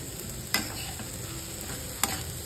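Hadaga flowers cook as a vegetable dish in a pan, giving a quiet steady sizzle with two sharp clicks of a spoon against the pan, no voices.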